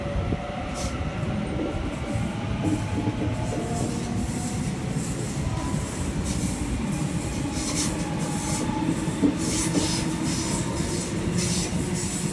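A Sydney Trains suburban train departs Windsor on an all stations service to Richmond, a continuous close rumble of wheels on rails with faint squeals and clicks, steady and loud, no talking.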